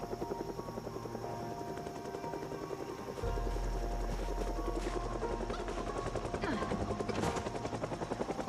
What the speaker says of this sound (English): Of course, the helicopter's gonna come.